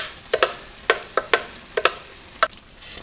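A spoon stirs through thick cashew cream in a hot stovetop pan, giving about eight short scraping, bubbling bursts in an irregular rhythm, close and fairly loud with no talking.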